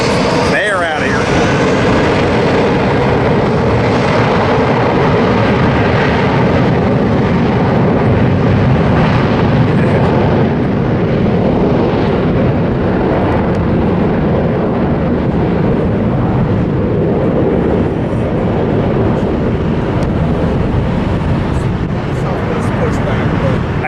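A jet airliner taking off, heard as a loud, continuous roaring engine rush filling the whole stretch outdoors at an airport, steady and unbroken, with no clear talk over it.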